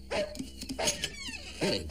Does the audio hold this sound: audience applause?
no